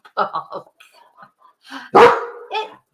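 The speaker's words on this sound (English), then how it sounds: "she's put this chair there so that I can bark out the window at everybody" A dog barks out a window from a chair, several sharp barks in a burst, then a louder, longer bark-whine and a final yip, close and alone.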